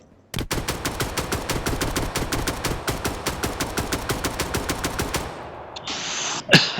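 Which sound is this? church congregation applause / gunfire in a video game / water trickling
gunfire in a video game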